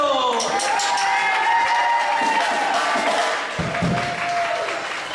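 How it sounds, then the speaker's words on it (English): Guests at a man's 50th birthday party cheer, whoop and clap for his wife Crystal in a loud, close burst that tapers off, and a voice starts speaking near the end. "you gotta give her a big round of applause for putting all this together"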